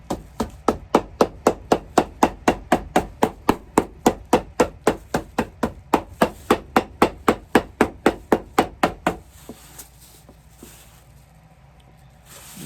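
Steady run of about thirty sharp hammer blows driving a sole onto a shoe during shoemaking, evenly spaced and loud, then stopping abruptly, leaving quiet workshop room tone.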